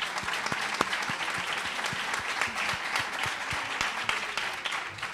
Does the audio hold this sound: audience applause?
yes